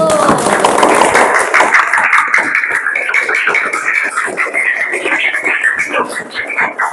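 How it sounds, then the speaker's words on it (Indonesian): Classroom students clap together after a group answers a question, a dense burst of applause that continues steadily and close by, with voices mixed in underneath. "Oke, tepuk tangan dulu."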